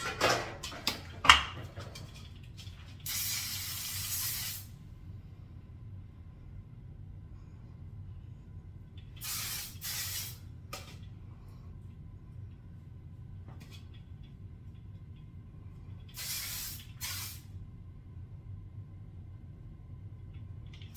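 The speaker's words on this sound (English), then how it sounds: "Okay, I'm gonna spray that into place." Short hissing bursts of an aerosol hairspray, three separate sprays spaced apart, over a quiet low background hum.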